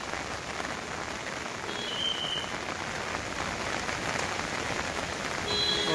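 Heavy rain pours steadily at the rickshaw stand crossing in Nainital, a dense, even hiss of drops striking surfaces throughout, with no voices.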